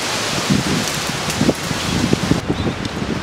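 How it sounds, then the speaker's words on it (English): Hot, gusty wind blowing through trees outdoors, a steady broadband rush with rustling leaves and buffeting bursts on the microphone throughout. "The wind is like this hot, uncomfortable wind that's just blowing everywhere."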